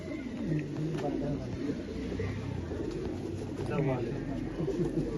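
Old-lineage domestic pigeons cooing in low, repeated murmurs while a person talks nearby.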